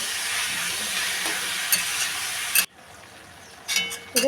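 Desi chicken curry with onion paste is stirred as it fries in a pan, giving a close, steady sizzle that briefly drops quiet before stirring scrapes return; no one talks.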